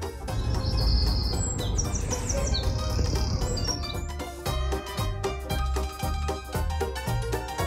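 Small white birds chirp in the snow with quick, high tweets over a busy backdrop, which later gives way to a rhythmic, plucky music track.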